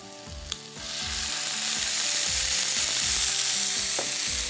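Raw banana for Bengali shukto tossed into hot oil, the frying sizzle swelling loudly after a quiet start and holding steady and close, with an occasional clink from the pan, over soft background music.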